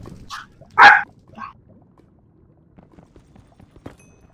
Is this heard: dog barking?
yes